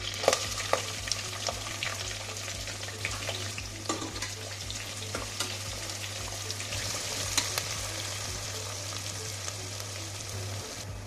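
Onions sizzle in a pan with mustard seeds, green chillies, curry leaves, cinnamon and cloves, giving a steady frying hiss with occasional stirring scrapes and pops under a constant low hum.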